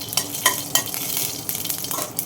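Mustard seeds and other tempering spices sizzle and fry in hot oil in a pan while being stirred, with sharp bursts of scraping and crackling over a steady hiss.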